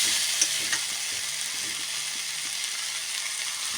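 Shaluk (water lily) stalks frying in a pan with mustard paste, a loud continuous oil sizzle with faint stirring scrapes, no voices.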